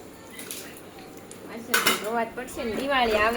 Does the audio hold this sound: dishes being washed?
yes